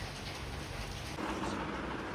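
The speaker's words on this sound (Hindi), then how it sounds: "बढ़िया अच्छी खासी बारिश हो रही है" Heavy rain pours down in a steady, dense hiss that holds evenly throughout, with no voices over it.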